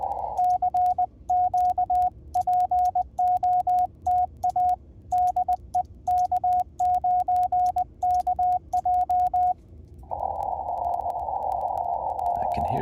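An amateur radio receiver during a Parks on the Air activation plays a steady series of keyed tones in Morse-like rhythm, ending in a continuous whine and hiss, moderately loud with no talking.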